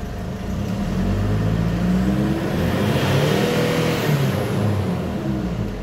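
A Ford Ranger engine with a P0093 large fuel-system leak fault, revved and held at a steady, loud, close drone throughout, with no talking.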